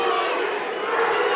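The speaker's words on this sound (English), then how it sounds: "that ignites the crowd now" A boxing crowd at a live bout roaring after a knockdown, a dense, sustained wall of cheering and shouting that stays loud throughout.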